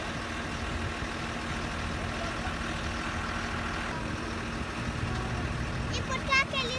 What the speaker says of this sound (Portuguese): E por que aquele trator tá saindo?